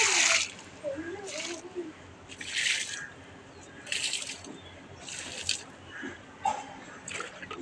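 Water is poured from a bucket onto rooftop plants in hot sun, giving several separate splashing bursts with drips between them, close by and fairly loud.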